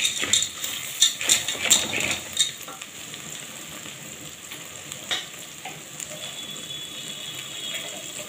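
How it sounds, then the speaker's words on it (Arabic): Vegetables and pasta being stirred together in a pan, a spoon scraping and clattering briskly for the first few seconds over a faint sizzle, then quieter occasional scrapes as frying continues close by. "ونقلبه كده كويس مع بعض"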